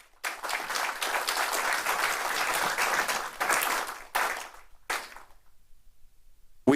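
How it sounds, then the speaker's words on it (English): Audience applause at a community foundation event after a disaster, steady broadband clapping for about four seconds, then scattered final claps fading into near silence. "Can we give our community a round of applause,"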